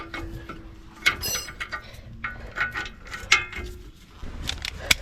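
A ratchet works loose the tight rear brake caliper bolts on a Chevy truck or SUV in a driveway, heard as scattered, sharp clicks in short uneven bursts against quiet outdoor background.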